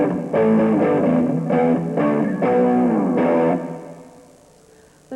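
A short chord sequence on guitar built from the E blues scale, several strummed chord stabs in a loose rhythm, close and somewhat gritty, trailing off into quiet near the end with no voices.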